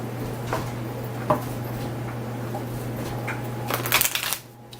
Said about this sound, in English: Struggle with these larger decks as they tend to be a little more difficult to shuffle.